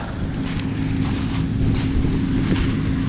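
Steady wind blows across an open corn field during a September maize harvest, a continuous broadband rush with gusty swells and low rumble throughout, no voices.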